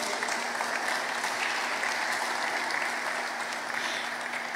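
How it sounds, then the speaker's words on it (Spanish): Audience applauding at the inauguration of the 2nd Women's Parliament of Quintana Roo in 2022, steady dense clapping filling the space throughout with a faint constant hum beneath. "quiero solicitarles un fuerte aplauso a nuestras parlamentarias"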